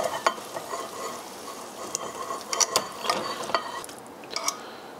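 Pheasant pieces in a frying pan give off a light sizzle, broken by scraping and clinking of a utensil being stirred and shifted, close up and with no talk.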